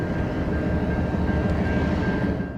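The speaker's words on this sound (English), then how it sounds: "The sky dimmed as the train emerged from the horizon, a long line of empty Boeing flat cars" A BNSF freight train with flat cars carrying Boeing 737 Max fuselages rolls past, giving a loud, steady rumble with a faint tonal whine and rhythmic wheel noise, and no talk.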